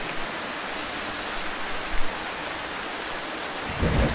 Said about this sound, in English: Is it raining? Yeah, it's raining.